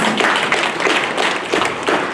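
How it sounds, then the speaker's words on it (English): A crowd claps in a dense, sustained burst of applause, moderately loud and fairly close, with no talking over it. "Please, let's give them a round of applause."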